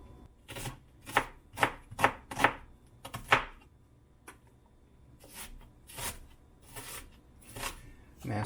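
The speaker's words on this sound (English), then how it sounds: "And now we're just gonna press out our garlic." Garlic is crushed in a press, giving a series of sharp squeezing crunches and clicks up close, quick bursts separated by short pauses, with a quiet voice at times.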